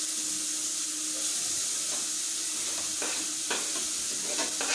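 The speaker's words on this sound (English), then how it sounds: "So at this point, I have to put my carrots in." Carrots tossed into a pan of browned onions frying for cabbage, giving a steady sizzle with scraping stirs and a few sharp clatters, and no talking.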